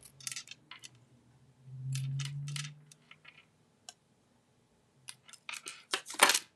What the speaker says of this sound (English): We're going to cut our sentiment, make a tag.